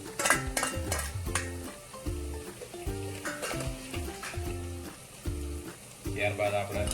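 Ginger garlic paste sizzles in a pan with fried onions while being stirred, a steady frying hiss with scraping stirs, under background music.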